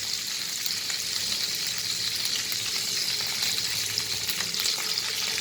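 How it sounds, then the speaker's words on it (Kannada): Mustard seeds and cumin sizzle in hot oil for a Karnataka-style tonde kayi palya, a dense, steady crackling hiss throughout with no talk. "ಕಾದ ಎಣ್ಣೆಗೆ ಸ್ವಲ್ಪ ಸಾಸಿವೆ, ಸ್ವಲ್ಪ ಜೀರಿಗೆ"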